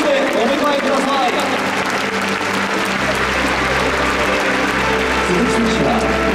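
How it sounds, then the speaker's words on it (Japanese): Dense, sustained applause from a large crowd in a domed stadium at a baseball first-pitch ceremony, steady and loud throughout, with voices mixed into the clapping. "どうぞ大きな拍手でお迎えください。"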